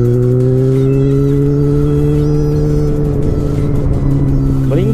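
Yamaha XJ6 motorcycle engine running steadily after a battery recharge, a loud, close, continuous hum with a strong, unchanging pitch and no pauses.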